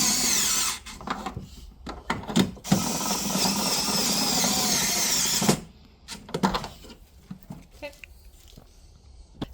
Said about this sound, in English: So you can just stick a screwdriver in.